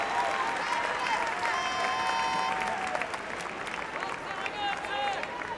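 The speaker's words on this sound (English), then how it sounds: "Our home fans cheering everything positive they get from their side" Home fans at a women's rugby match, Italy against France, cheer and applaud in a continuous loud wash of clapping and crowd noise that persists throughout.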